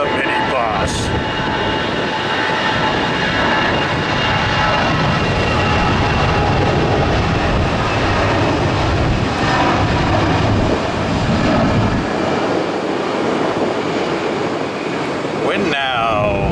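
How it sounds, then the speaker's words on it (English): An Airbus A319 airliner's engines roar loud and steady throughout at Tampa International Airport, a dense continuous jet rumble with no talking heard over it. "Short ride on the A319, the minibus."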